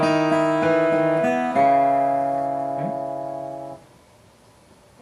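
The opening of the carol We Three Kings is plucked on a fretted string instrument as written in tablature, with a handful of clear notes ringing close and loud, then the last one sustains and fades away.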